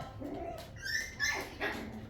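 Several puppies playing indoors, letting out high whimpers and squeaky yips in quick bursts, close by and fairly loud.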